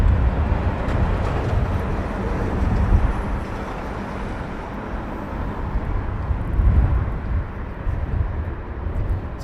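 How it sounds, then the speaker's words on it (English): An Airbus A350 airliner taxiing out at Heathrow Airport gives a continuous low, broad jet rumble that swells and fades gently, heard from a distance with no talking. "A350 taxiing out."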